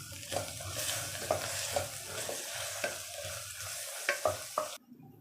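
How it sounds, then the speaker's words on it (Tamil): Ginger garlic paste sautés in oil over a medium flame, a steady moderate sizzle broken by repeated scraping and tapping of a spoon against the pan, before it suddenly drops away. "இந்த இஞ்சி பூண்டோட பச்சை வாசனை போகிற அளவுக்கு நல்லா வதக்கிக்கணும்"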